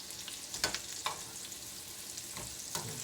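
Herb-seasoned goat chops fry and brown in a hot pan, giving a steady soft sizzle with a few sharper pops and crackles, close up, with no talking.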